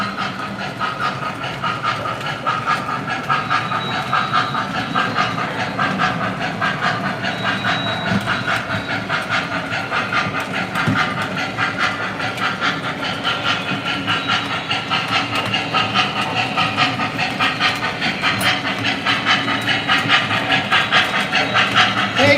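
An O gauge model train runs along its track with a steady rolling rumble and rhythmic clickety-clack of wheels over rail joints, plus a faint steam-like hiss, loud and close throughout.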